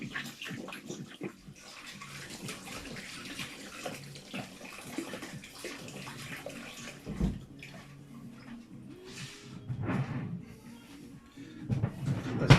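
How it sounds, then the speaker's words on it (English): Tap water runs steadily into a sink during a hand wash in a home kitchen while pizza dough is being made, a continuous close splashing flow with some faint handling noises. "I'm going to give my hands a quick wash just while we do that"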